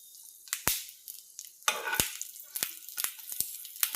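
Red chillies roast in a little oil for a Kolhapur-style thecha, giving off soft crackles and sharp pops at irregular intervals over a faint sizzle, close and quiet.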